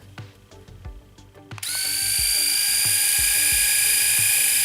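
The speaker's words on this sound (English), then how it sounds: "That's the sound of the shaver." A Philips Shaver 1000 S1332 cordless dry shaver switches on and runs with a steady high-pitched buzz, loud and close, after a moment of quieter background noise.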